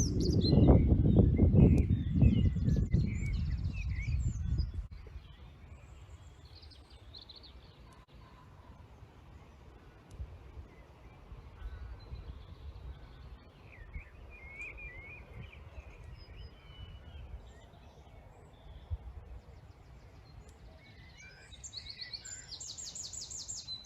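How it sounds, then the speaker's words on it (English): Male birds sing in breeding season on a late spring nature walk, scattered chirps and song phrases heard faintly at a distance over quiet outdoor ambience, after a louder rumbling passage at the start. "these songs are mostly male or daddy birds, and they're boasting about the wonderful territories and nest sites that they have established"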